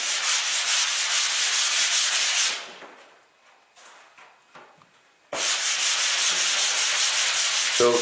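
Drywall being hand-sanded with the rough side of a sanding sponge, a steady dense scraping for about two seconds, a short quieter stretch with a few light strokes, then loud continuous rubbing resumes up close.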